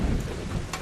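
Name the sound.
rain with thunder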